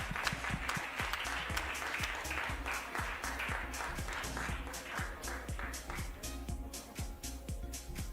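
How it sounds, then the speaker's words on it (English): A summit audience at the News9 Global Summit, Germany edition, gives a steady round of applause: dense, even clapping from many hands that holds at a moderate level throughout without fading. "Ladies and gentlemen, a huge round of applause for Mr. Kakao"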